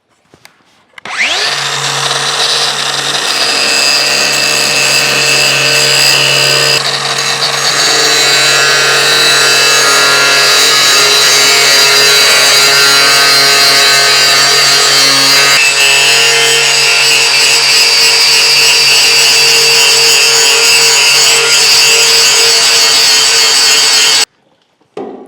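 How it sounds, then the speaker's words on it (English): An angle grinder fitted with a grinding wheel cuts a V groove into the broken cast iron of a large cane mill, giving a steady, loud, high whine that runs for over twenty seconds with no voices. "Now I've got a grinding wheel on the angle grinder"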